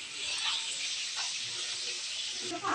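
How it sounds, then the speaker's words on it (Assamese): Potatoes fry in hot oil, a steady broadband hiss of sizzling that runs nearly unbroken, moderately loud and close, with a brief swell near the end. "এয়া ধুনীয়াকৈ ফ্ৰাই কৰি আছোঁ মই এতিয়া"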